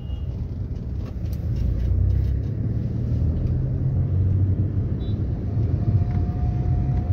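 A car engine running while driving in Pune, a steady low rumble with road noise that swells slightly and holds even, close and continuous with no talk.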